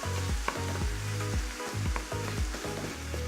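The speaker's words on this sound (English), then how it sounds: "my turkey is cooking away, getting more aggressive as it cooks." Ground turkey frying in a pan, with a continuous close sizzle punctuated by regular scraping strokes of a utensil stirring and breaking up the meat, and no voices.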